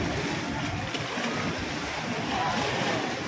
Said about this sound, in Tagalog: malakas po alon kasi may dumadaan pong lancha mga kauban